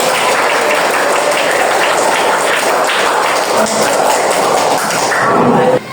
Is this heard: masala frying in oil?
no